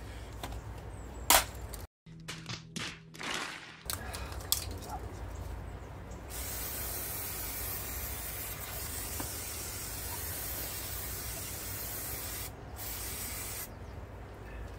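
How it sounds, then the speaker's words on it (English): Brake cleaner hisses from an aerosol can onto a diesel Renault 19 engine with 413k miles, a long, loud, steady spray held for about ten seconds after a few short clicks and bursts. "Bit of brake cleaner, get rid of all that diesel"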